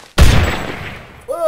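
A single loud, close AK-47 shot in Minecraft with the Stefinus 3D Guns mod, a sharp blast with a reverberant tail fading over about a second, then a voice starting to speak.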